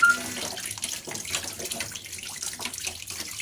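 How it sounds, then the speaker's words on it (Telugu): Water runs steadily from a tap while wheat flour dough, a portion for one chapati, is washed under it, a close, continuous splashing rush with no talk. "ఒక చపాతీకి అంత తీసాను కడుగుతున్నాను"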